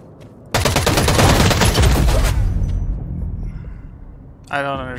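A long, loud burst of automatic gunfire in the shooter game Eve Vanguard, a dense rattling stream of shots that rises suddenly, then fades into rumble, followed by a brief electronic tone.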